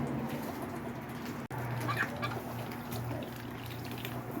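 Silkie chickens clucking softly in a backyard on a winter morning, with steady low murmuring clucks, a few brighter calls in the middle and a brief click partway through, no talking.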